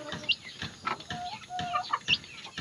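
Young chickens clucking and peeping while they eat on a farm, scattered short calls close by with light pecking and rustling between them.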